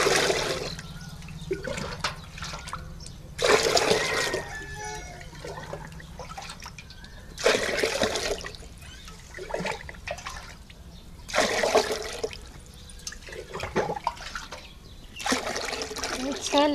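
Water poured into a vessel to prepare a seed-treatment solution for SRI planting, heard as several separate bursts of pouring and splashing with quieter gaps between them, fairly close.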